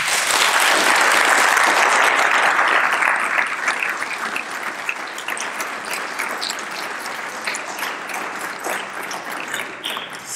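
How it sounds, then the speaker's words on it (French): Graduating class of 2021 receives a sustained round of audience applause at a school ceremony, loud and dense at first, then gradually thinning into scattered claps. "Vous pouvez les applaudir."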